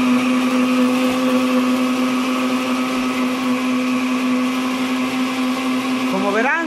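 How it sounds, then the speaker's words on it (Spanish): Blender whirring steadily as it purees chilate ingredients, a loud, even motor drone throughout that pitches up briefly as it winds down at the end. "Como verán, hay que licuar."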